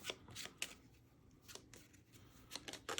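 Tapestry board game cards are riffled and shuffled in several short bursts, quiet and close, with brief pauses between them.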